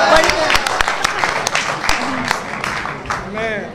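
An audience claps at a literary gathering for a Punjabi poetry book, brief rounds of applause mixed with a speaker's voice talking over it, loud and close.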